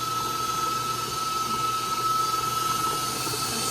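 An electric mixer whirs steadily at one speed while eggs are folded in one at a time for Christmas baking. The hum is loud and close, with a continuous whining tone and no voices.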